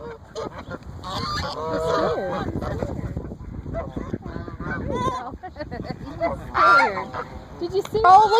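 A goose honks repeatedly at close range, its calls mixed with people talking and reacting throughout.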